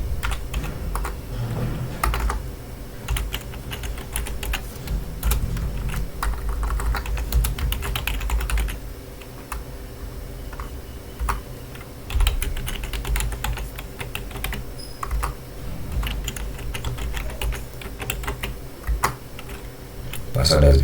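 Rapid, steady typing on a computer keyboard while setting a user password on a Linux server, close and continuous clicking with brief pauses, some talk mixed in.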